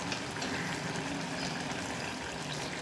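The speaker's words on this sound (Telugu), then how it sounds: "అయినా కొంచెం నీళ్ళు చుక్కలు జల్లుకుందాం." A few drops of water sprinkled onto pumpkin curry cooking in a clay pot give a steady, even hiss of simmering with no voices.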